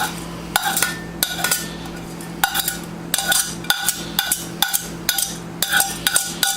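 Food for cream cheese stuffed peppers is scooped and scraped into a bowl, repeated sharp metallic clinks and taps of a utensil against the bowl in a steady, uneven rhythm, close with no talking.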